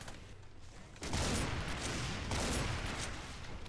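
Sustained rapid gunfire from the guns of Doom's Project Brutality mod. It starts softer, then breaks into a loud, continuous barrage that keeps going to the end.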